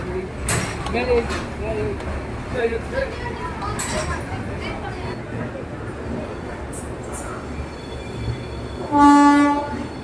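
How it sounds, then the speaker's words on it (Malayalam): A train departing Coimbatore railway station rumbles and clatters steadily on the tracks, then a loud horn sounds near the end; faint voices carry over the noise. "നമ്മുടെ ട്രെയിൻ അങ്ങനെ കൃത്യം 9:55 തന്നെ കോയമ്പത്തൂർ റെയിൽവേ സ്റ്റേഷനിൽ നിന്ന് വീണ്ടും പുറപ്പെട്ടിരിക്കുകയാണ്."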